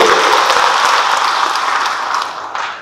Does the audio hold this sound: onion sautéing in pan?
no